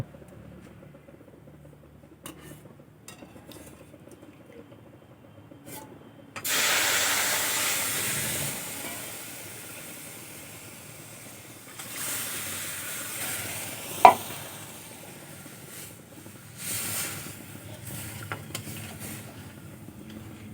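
Milk is poured into fried semolina in a pan, setting off a sudden loud hissing sizzle that fades into softer bubbling and scraping as it is stirred, with one sharp clank midway.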